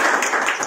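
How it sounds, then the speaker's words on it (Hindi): Brief, dense clapping from an audience at an NCP political event honouring women in India, fairly loud and steady with no voices. "भरपूर तालियों से तबाह करें।"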